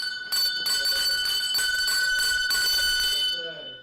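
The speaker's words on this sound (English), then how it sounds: "Ring the bell." A bell rings in rapid, loud repeated bursts for over three seconds and then cuts off abruptly.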